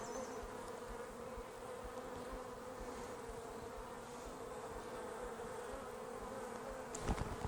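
Steady dense buzzing of many honeybees around an open backyard hive, a continuous close drone with a brief knock near the end.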